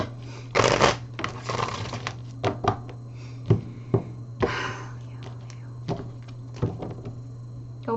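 Tarot cards shuffled and cut, with a loud riffling burst early on followed by several sharp card taps and slaps and softer shuffling, close and clear over a steady low hum.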